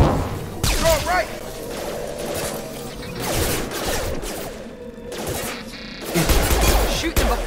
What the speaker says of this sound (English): Shoot them before they take out the shield.